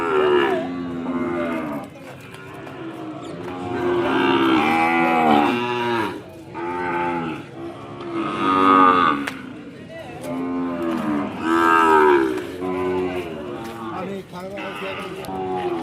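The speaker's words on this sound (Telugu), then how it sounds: "ఆవులు ఉన్నాయి, ఆవులు కావాలంటే ఆవులు చూపిస్తాను." Ongole cows and calves at a cattle market moo repeatedly in long, loud calls that rise and fall, several animals overlapping nearby.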